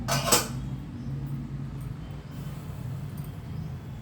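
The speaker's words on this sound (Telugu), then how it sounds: "ఇదిగోండి మూత తీస్తున్నా" A lid is lifted off a pot of steaming old-style steamed kudumu dumplings, giving one short close clatter at the start, followed by a steady low rumble and hiss of steam.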